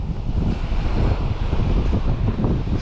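Strong, steady wind roars across a winter shoreline during cod fishing, buffeting the microphone continuously with a dense, low rumble and a hint of surf beneath it.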